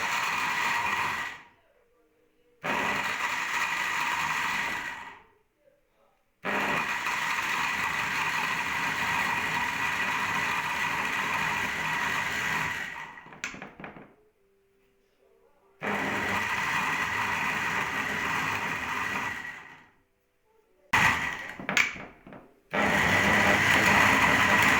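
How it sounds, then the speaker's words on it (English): A kitchen blender whirs loudly as it chops coconut, tiger nuts, ginger and dates. It runs in several long bursts with short silent pauses between them, and no one talks. "Here we have the coconuts, we have the tiger nuts, and we have the ginger, and we have the dates, all in blender, ready to be"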